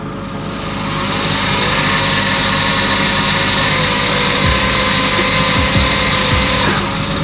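A Dalek build's drive motor running at half speed, giving a loud, steady mechanical whine and hum with a few low knocks near the end.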